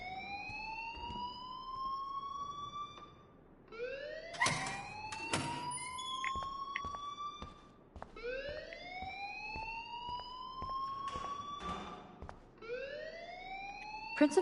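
A school alarm in a video game wails in repeated rising sweeps, each a couple of seconds long, with sharp clanks and thuds breaking in between the cycles.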